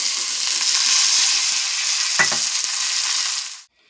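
Tomatoes hitting hot oil in a pan with fried onions and green chillies, a loud, close, continuous sizzle with a brief stirring clatter midway, then the frying cuts off abruptly.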